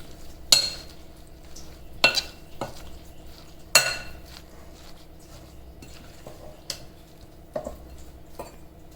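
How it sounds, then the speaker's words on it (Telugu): A batter of carrot, spinach, onion, turmeric, pepper and salt is stirred in a bowl, a steady soft scraping with sharp clinks of the spoon against the bowl rim every second or two, no voices. "ఇవన్నీ వేసుకొని మంచిగా మీరు దోసపిండి కలిపినట్టు కలుపుకోండి"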